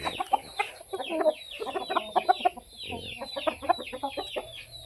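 Chickens on a Thai chicken farm in the morning cluck and squawk in quick, overlapping bursts, close and busy, with several birds calling over one another throughout.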